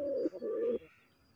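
A pair of red deshi golla pigeons coo close by: two low, throaty phrases with a short break between them, then quiet.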